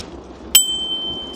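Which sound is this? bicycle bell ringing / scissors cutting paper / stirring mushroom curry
bicycle bell ringing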